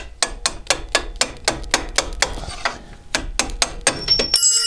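Metal hammer blows on a steel pin punch while removing the driveshafts of a Citroën C6, roughly fifteen sharp ringing strikes in a fast, uneven rhythm, close and loud, with a short pause midway and a clatter at the end.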